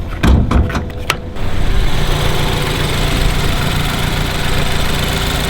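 A BMW F30 with a check engine light on idles roughly, a loud, steady mid-pitched engine drone with a few sharp clicks and knocks at the start.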